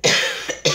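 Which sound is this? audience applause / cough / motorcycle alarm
cough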